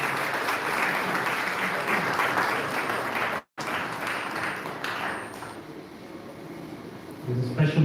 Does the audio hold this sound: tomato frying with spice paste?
no